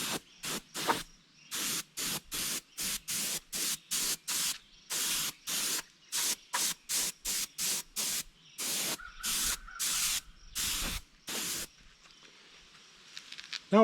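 An airbrush sprays gold pearl paint across the back of a northern pike replica in short repeated bursts of hissing air, each lasting under a second with brief silent gaps, close and fairly loud.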